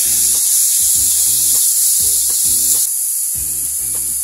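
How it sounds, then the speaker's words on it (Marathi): Chopped vegetables for veg manchow soup stir-fry over a high flame, a loud, constant hiss and sizzle with periodic clanks and scrapes of a utensil tossing them in the pan. "सर्व भाज्या आपण मोठ्या गॅसवरतीच परतून घ्या"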